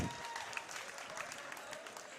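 Home crowd at a junior basketball game applauding a made free throw, a faint, distant patter of clapping with a brief voice in the mix.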